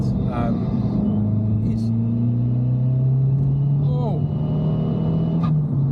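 Abarth 595 Competizione with a turbo and a remap, heard from inside while driving: a steady droning engine note rising slowly in pitch under the voice of a person talking, with a brief whoosh partway through.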